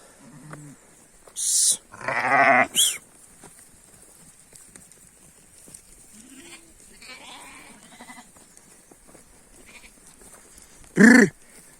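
A few sheep and lamb bleats ring out in short bursts near the start and again near the end, with quiet outdoor rustling in between.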